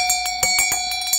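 An antique bell being struck several times in quick, uneven taps. Each strike rings out with clear, sustained metallic tones that carry on between the hits, loud and close.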